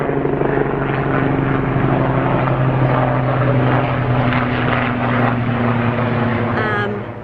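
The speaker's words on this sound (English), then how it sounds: "excuse the helicopter." A loud helicopter drones close overhead, its steady rotor thrum filling the scene before easing off at the end.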